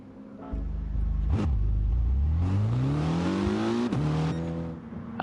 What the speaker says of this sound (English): As we rev up the Evos for one final time.